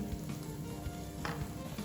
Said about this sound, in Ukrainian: Вже шкварчить гриби і смажимо десь хвилин 5-7